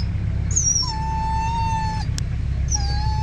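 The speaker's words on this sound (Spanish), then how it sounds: "Pero está bien golpeada la perrita." An injured female dog whimpers outdoors, giving thin high whines and a longer wavering cry over steady low background rumble, close and fairly clear.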